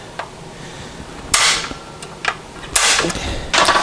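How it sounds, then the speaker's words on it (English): A spring-loaded center punch snaps against a steel motor mount part during a Jeep JK 4BT engine swap, giving a few sharp, loud clicks separated by pauses. "we'll just take our spring-loaded center punch, give her a couple hits"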